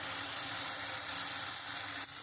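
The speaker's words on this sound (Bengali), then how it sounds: "আমি খুব সুন্দর করে কষিয়ে নিয়েছি" Mustard paste sautéing in a pan for a tilapia curry with potatoes, heard as a steady, close, even sizzle throughout with no voices.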